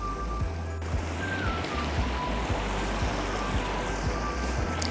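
A river flows steadily beside a riverside camping spot on a Dartmoor walk from Okehampton to Postbridge, a continuous broadband rush of water with a low, even hum running underneath, close by and with no talking.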